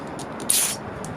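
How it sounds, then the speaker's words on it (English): A short burst of brake cleaner from an aerosol can, sprayed into a spark plug hole on a Toro mower, hisses for about a quarter second, loud and close, with faint clicking before and after. "spraying out what's inside the spark plug"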